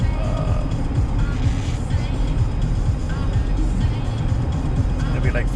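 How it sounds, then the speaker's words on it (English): A pickup truck with a transmission problem cruises on a freeway, a steady loud rumble of engine and road noise filling the whole stretch with no letup. "taking the truck for a drive on the freeway."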